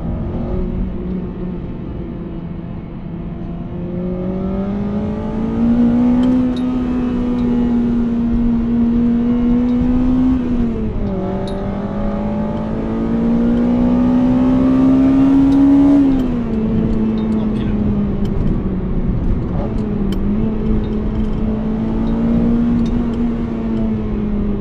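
A Honda Integra Type R DC5 Mugen's four-cylinder engine climbs through the revs in repeated pulls, its tone rising, dropping at each shift, then rising again in a loud, sustained, close wail with no talk over it.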